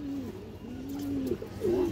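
A large, healthy pigeon coos in a low, wavering call that runs steadily for a couple of seconds, close and fairly quiet, with no voices over it.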